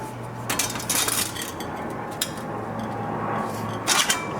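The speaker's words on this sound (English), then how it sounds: "that crimped end will fit directly into the stove" A single-wall chimney pipe with a crimped end is pushed into a La Nordica Milly wood cook stove, giving light metallic clinks and scrapes in a few short clusters over a low hum.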